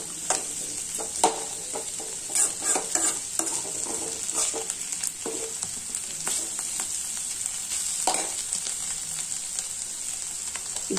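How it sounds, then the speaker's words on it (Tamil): Mini potatoes sauté in oil in an open pan, giving a steady close sizzle broken by repeated spatula scrapes and stirring clatters throughout, with no voices. "மூடி திறந்து வச்சுட்டு ஒரு 1 நிமிஷம் நம்ம நல்லா வதக்கிக்கலாம்."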